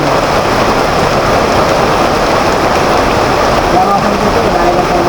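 Sudden heavy rain pours down in a dense, steady roar of hissing drops on surfaces, loud and unbroken throughout, with no clear talk over it.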